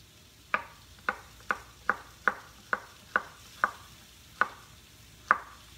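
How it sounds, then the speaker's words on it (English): Knife chopping vegetables on a cutting board while a home cook prepares stuffed peppers, sautéed mushrooms and salad: about ten sharp, evenly spaced chops at a slow, steady pace, close and clear, with a faint kitchen sizzle underneath. "I'm slow chopping today."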